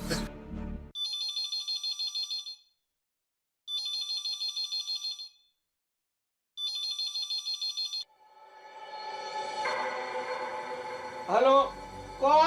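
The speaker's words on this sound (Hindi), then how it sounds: "घंटी बज रही है।" A household phone rings in an electronic ringtone, three bursts with silent gaps between them, clear and close, followed by a rising swell of music and swooshing effects.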